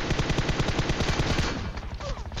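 Rapid bursts of automatic gunfire in PUBG Mobile rattle in a fast, even rhythm for about a second and a half, then give way to quieter game sounds.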